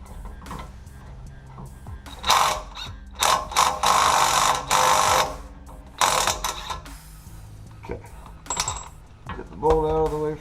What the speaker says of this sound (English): I like using a breaker bar on it.